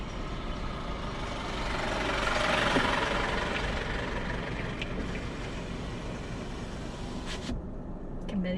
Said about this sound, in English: Oh, got lorry coming.